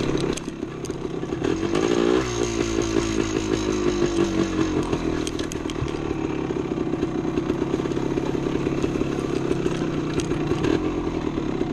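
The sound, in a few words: 1975 Yamaha DT250 motorcycle riding through woods trail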